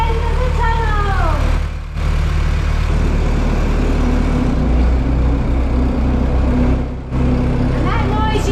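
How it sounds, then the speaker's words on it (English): Ventilation fans in a canal tunnel, extracting diesel fumes while a narrowboat passes through, drone as a constant low, loud rumble. Brief voices rise above the hum near the start and end. "And that noise you can hear of the fans to suck out all the diesel fumes."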